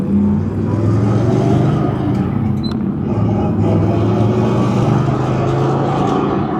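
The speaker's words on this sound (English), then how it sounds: "Great MagnaFlow exhaust on it." A 1965 Chevrolet Impala SS with a 327 cubic-inch V8, four-speed manual and MagnaFlow exhaust rumbles loudly and steadily on a test drive, with a deep, continuous engine drone throughout.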